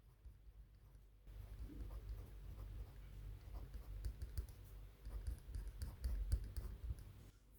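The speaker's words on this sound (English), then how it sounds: "you can actually tell the clicking noise of this part" A Rotring 800 mechanical pencil gives off a run of small, close, dry clicks and taps from its mechanism, irregular in rhythm and fairly faint over a low steady background hum.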